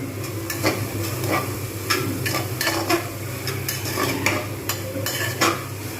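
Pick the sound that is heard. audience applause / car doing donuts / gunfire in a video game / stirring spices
stirring spices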